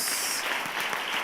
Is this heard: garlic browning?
no